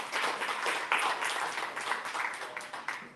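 Scattered applause from a small conference audience, a burst of clapping lasting a few seconds at moderate volume.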